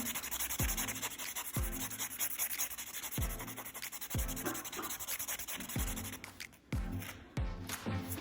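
A nail file's smoothing side buffs fingernails in close, repeated rasping strokes, each a short gritty rub followed by a sharp tap, in a steady rhythm up close.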